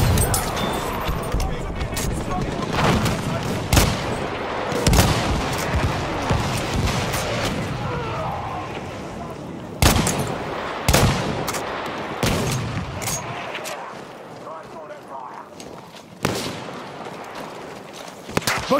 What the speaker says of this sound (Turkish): Makinalı tüfek! Çabuk olun!